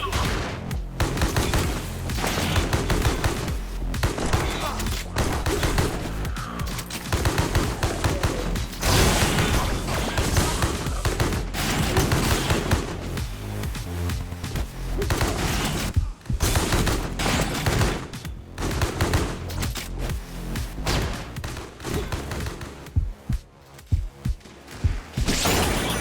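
Rapid, dense gunfire from the fast-paced shooter game Mullet Mad Jack, loud and continuous for the whole stretch, with bursts of automatic fire, heavy thuds and booms layered over a driving game soundtrack.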